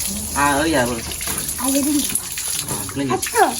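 Water runs steadily from a tap while a banana leaf is washed in Jaffna, a constant splashing hiss beneath people talking nearby.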